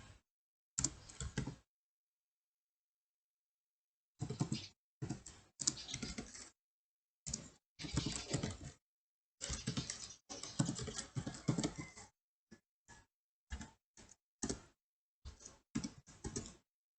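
Bursts of computer keyboard typing while code is written, clustered runs of quick clicking keystrokes separated by pauses, close and moderately loud, with no talking.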